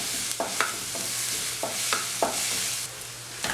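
Onion, chilli, ginger, garlic and chicken sizzle in a hot pan while a spatula stirs and scrapes in repeated strokes, a steady close frying hiss with soft clacks throughout and no talking.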